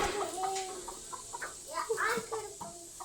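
Chickens cluck and chatter close by in a village chicken shed, a busy run of short calls, with a faint voice underneath.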